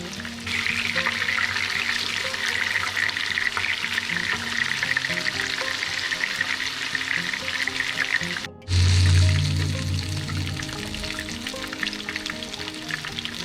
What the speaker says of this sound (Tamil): இப்போது மீன் துண்டுகள் எல்லாம் நல்லா எல்லா பக்கமும் திருப்பி போட்டு லைட் ப்ரௌன் ஆகிற வரைக்கும் வேக வச்சு எடுத்துக்கலாம்